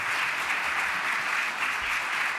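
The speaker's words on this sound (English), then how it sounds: "So give them a round of applause." A conference audience applauds a panel at a national conference, brisk, even clapping from many people, moderately loud and sustained.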